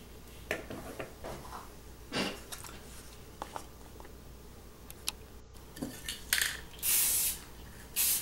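Primer is sprayed from an aerosol can onto a Corgi Porsche Carrera 6 model car, in short bursts and longer hissing sprays, mixed with small clicks and taps of handling nearby.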